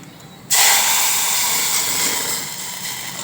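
Tempering for dal bursts into a loud hissing sizzle as the spices hit hot oil, starting abruptly after a quiet moment and staying strong and steady, easing off slightly toward the end.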